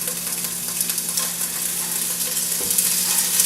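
Bacon sizzles and fries in a pot for black bear osso-buco, a close, steady crackling hiss that carries on evenly, with a faint clunk partway through.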